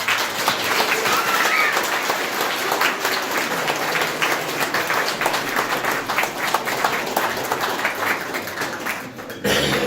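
Audience applause welcoming Senator Marjory LeBreton at a Conservative fundraiser, a dense, steady clapping from a crowd that holds for nearly ten seconds before cutting off abruptly at the end.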